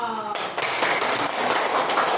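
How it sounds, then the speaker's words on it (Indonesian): A room of people claps together for Pak Sutrisno, a brief voice giving way to a dense, steady burst of applause that fills the rest of the moment. "Tepuk tangan untuk Pak Sutrisno."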